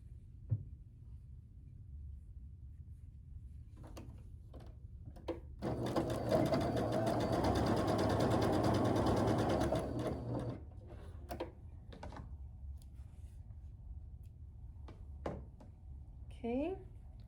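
A sewing machine stitches pieced quilt block fabric in one sustained, moderately loud whirring run of about five seconds, bracketed by quieter handling clicks and taps before and after.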